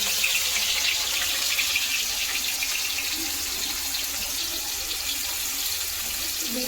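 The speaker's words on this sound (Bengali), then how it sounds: "দিয়ে দিলাম পেঁয়াজটা, একটু লাল লাল করে ভাজবো।" Onion drops into hot oil in a pan and fries with a steady, bright, hissing sizzle that stays even and fairly close throughout, no talk over it.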